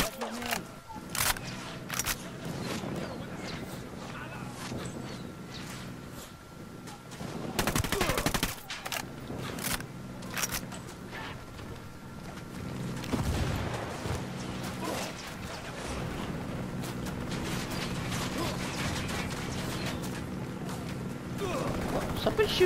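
Gunfire rains down from the sky in the video game Ghost Recon Wildlands, sharp bursts and scattered shots cracking over the game's background noise while players talk excitedly throughout.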